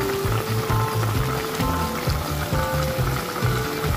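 A pot of chicken adobo with pineapple and bay leaves bubbles and sizzles steadily up close, with a continuous simmering hiss and irregular low gurgles throughout.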